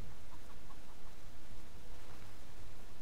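A chicken in the video game Wasteland 2 clucks softly a few times early on, faint and short, under a steady hiss of game ambience.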